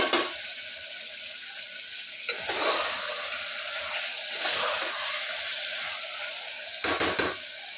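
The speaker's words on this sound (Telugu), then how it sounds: "ఇప్పుడు ఇందులో మనం వాష్ చేసి పెట్టుకున్న మటన్ యాడ్ చేసుకోవాలి" Washed mutton hitting softened tomatoes in a hot pan, giving a steady sizzle with stirring scrapes and a couple of louder bursts, close and continuous with no talk.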